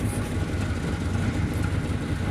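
A small block Ford engine with a new carburetor running slightly rough with its timing out of adjustment, a dense, steady mechanical rumble heard up close and continuously over a short stretch.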